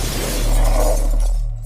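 Window glass shattering after a rifle shot, a loud close burst of breaking glass that decays with scattering shards over under two seconds, no voices.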